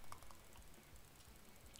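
Rapid, faint clicking of a computer mouse or keyboard while playing a Roblox game, a quick irregular patter of small ticks.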